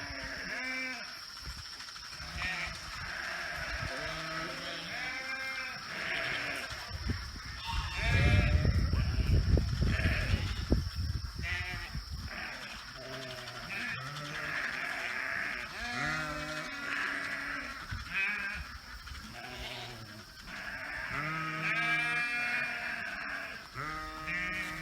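Several sheep bleat repeatedly and loudly while following a running person outdoors, overlapping calls of varying pitch with a louder, denser burst midway through.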